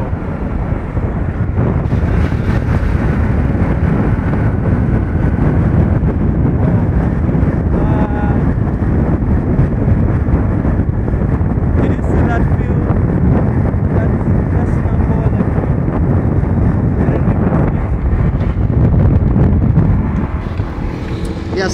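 Strong wind buffets an outdoor microphone, a loud, continuous rumbling roar that never lets up across the whole stretch.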